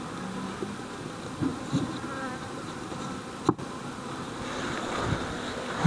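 Honey bees buzz steadily while being transferred into mini nucleus hives outdoors, a continuous close insect drone with brief knocks and handling noises over light wind.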